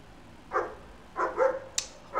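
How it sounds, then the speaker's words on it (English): Dogs bark outside, a few separate muffled yaps and woofs in quick bursts at moderate distance, with quiet room tone between them. "I hate these dogs which bark outside like crazy."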